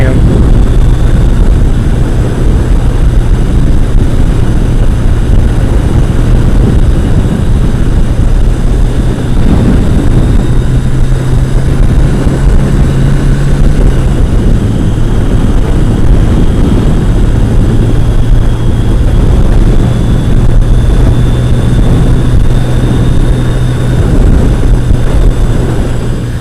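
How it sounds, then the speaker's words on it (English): A Maxim Drift jet ski running on a lake past a dam: continuous loud engine drone with shifting pitch, heavy wind buffeting over the microphone throughout, and occasional voice beneath. "Jet skiing and doing all kinds of silly things on the water today."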